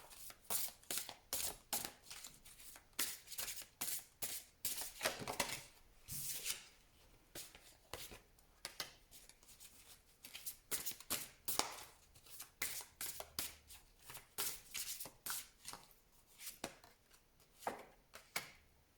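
Tarot cards are shuffled by hand in a steady, rapid run of crisp riffling and slapping bursts, close and soft, continuing without pause.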